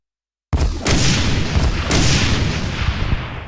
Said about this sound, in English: every time we shoot the rocket, the camera starts shaking